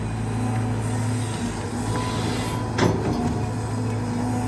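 A CAT 320GX excavator, a 20-ton machine with a 0.9 cubic metre bucket, digs hard laterite soil while cutting an orchard trench, its steady diesel drone loud and close with a sharp clank of the bucket partway through.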